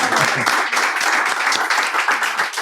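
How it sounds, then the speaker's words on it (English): An audience at a mentoring meetup fireside chat gives a round of applause, a loud, dense crowd clapping that holds steady throughout with slight pulsing and no speech over it. "They deserve a better round of applause."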